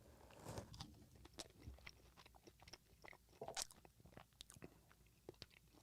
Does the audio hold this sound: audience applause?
no